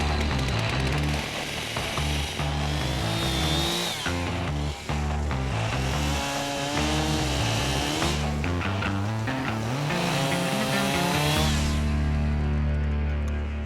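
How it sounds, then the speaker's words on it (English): A loud, close chainsaw engine buzzes steadily, its pitch surging and dropping as it bites into wood, with no talking. "I don't have the ability to jump out of the way of a chainsaw that may bounce around"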